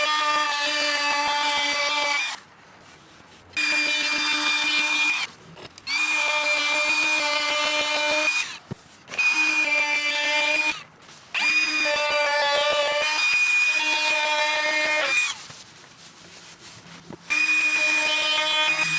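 A router cuts van countertop material in several loud, steady whining bursts, each a few seconds long and separated by brief pauses.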